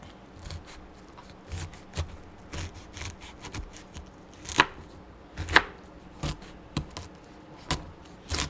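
A knife chops through a pineapple on a cutting board in irregular, crisp strikes, close by and moderately quiet, with no talking.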